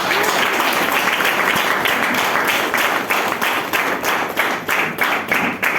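An audience at a business-plan meeting in Hyderabad applauds loudly, a dense wash of many hands clapping that thins toward the end into more distinct, separate claps.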